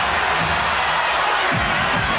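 A basketball arena crowd at a 2003 Spurs–Lakers playoff game gives a steady, dense roar that fills the space throughout, loud and continuous with no distinct individual voices.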